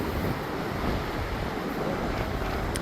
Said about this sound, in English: Hearing the ocean waves is peaceful.